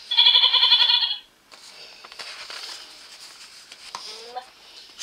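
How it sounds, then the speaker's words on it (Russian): A young goat lets out one loud, wavering bleat lasting about a second, followed by softer rustling and faint movement sounds. "Козленок."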